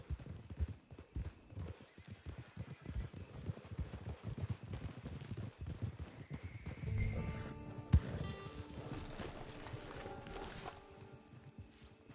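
Horse hooves clip-clop steadily at a walking pace in Red Dead Redemption 2, close and clear, with a brief whinny partway through over an ambient game soundscape.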